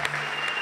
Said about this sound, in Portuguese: Será que a gente pode aplaudir a Jesus por isso?